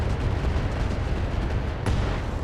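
A mech in RogueTech fires its weapons at a Thumper turret, producing a heavy, continuous rumble of blasts with one sharp crack standing out near the end.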